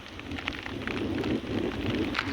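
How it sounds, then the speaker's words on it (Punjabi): Heavy rain pours down steadily, a dense, close hiss of drops drumming on surfaces without a break. "ਇੰਨਾ ਬਾਰਿਸ਼ ਹੋਈ ਆ"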